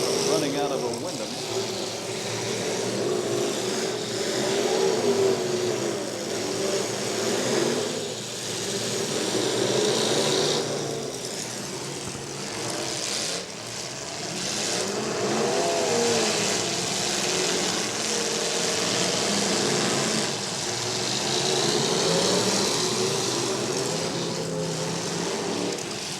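Demolition derby cars at a Portage County derby race and rev their engines in a steady, roaring drone with surges and dips, under a continuous announcer's voice over a loudspeaker.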